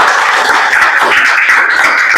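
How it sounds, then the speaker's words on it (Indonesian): A school class claps hands for their teacher's lesson, dense overlapping clapping that is loud and close and fills the whole moment. "Tepuk tangannya lagi dong."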